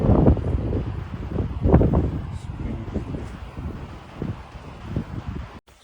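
Strong wind during a snowstorm in Canada, buffeting the microphone in irregular rough gusts and rumbling bursts, close and loud, with brief rustling between blasts.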